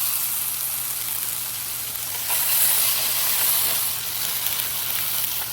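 Onions hit a hot pan beside lobster tails, asparagus and sweet potatoes and give off a steady, dense sizzle. Midway the frying hiss swells briefly and then settles back to an even crackle, with nobody talking over it.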